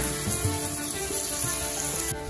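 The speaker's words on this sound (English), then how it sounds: "she's just frying her meat" A steady, close sizzle of meat frying in a hot pan, constant and fairly quiet throughout.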